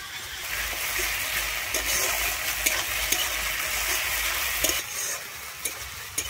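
Ginger, garlic and green chili paste fries loudly in hot oil, a dense continuous sizzle broken by frequent scraping taps of the stirring spoon, with no one talking.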